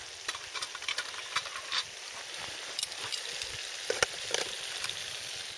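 Sausages sizzle and crackle in a pan on a pocket stove outdoors on Exmoor, a steady frying hiss broken by irregular pops and small scrapes, close and fairly quiet, with no talking.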